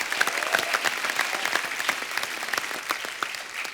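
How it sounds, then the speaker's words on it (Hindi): Studio audience at a comedy talk show applauding a women's cricketer, dense, lively clapping with a few sharper individual claps, steady and fairly loud throughout. "जोरदार तालियां होनी चाहिए।"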